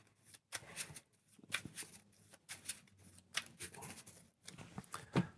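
Marvel Champions cards are riffle-shuffled in close, crisp bursts of rapid flicking, several separate shuffles separated by short gaps, with no talk over them.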